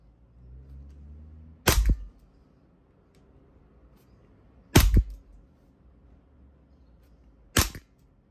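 A WE G17 gas blowback airsoft pistol fires three single sharp, snappy shots spaced a few seconds apart, close and loud against a quiet room.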